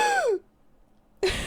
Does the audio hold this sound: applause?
no